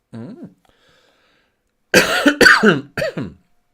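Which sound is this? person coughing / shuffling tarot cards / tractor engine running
person coughing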